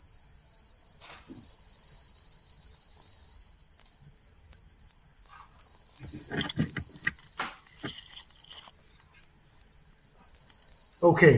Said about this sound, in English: what you hear here is the soundscape, indeed, of the habitat of Zeuneriana marmorata